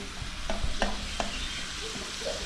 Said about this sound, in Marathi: आता जिरा चांगला आपण जरा मधी तेलामध्ये तो जरा फ्राय करून घेऊया